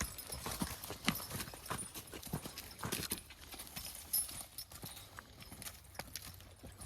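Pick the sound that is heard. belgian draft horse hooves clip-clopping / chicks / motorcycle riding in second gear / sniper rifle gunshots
belgian draft horse hooves clip-clopping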